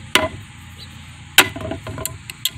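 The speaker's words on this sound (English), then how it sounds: "I was wanting to hammer this stuff together, but damn, I don't have my hammer." Improvised hammering with a Buck 119 fixed-blade knife used as a hammer: two sharp, loud impacts about a second apart, followed by a few lighter knocks, outdoors with no talking.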